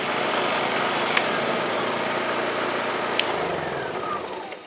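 Two Honda generators, an EU3200i and an EU2200i, running in parallel: a steady, loud engine drone holding even throughout, with a couple of faint clicks and a slight drop in pitch near the end.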